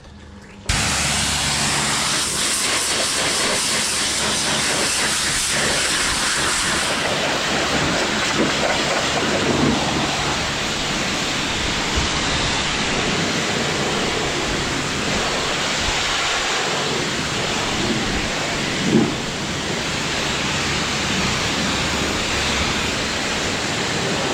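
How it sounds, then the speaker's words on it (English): Steady, broadband hiss of rain pouring down on a farmyard, loud and continuous with no speech, a dense wash of noise that barely varies from start to finish. "It is raining."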